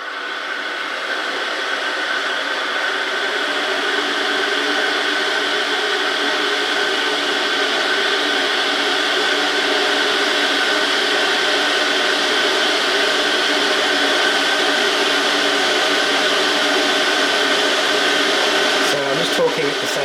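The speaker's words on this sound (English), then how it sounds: "Not the quietest kettle I've ever had." A Haden Dorchester electric kettle hums and hisses steadily as it heats about two cups of water, a continuous whirring rush with faint talking underneath.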